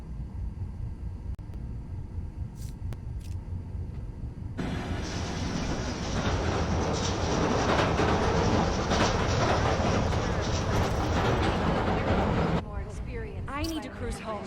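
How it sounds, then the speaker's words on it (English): A subway train in the video game Spider-Man: Miles Morales rumbles up and passes close by, a loud sustained roar with clattering wheels that cuts off abruptly near the end, followed by faint squeals. "Need to wait for the train to come by."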